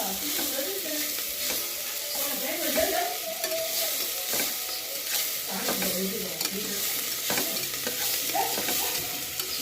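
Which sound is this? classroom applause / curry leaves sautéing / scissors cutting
curry leaves sautéing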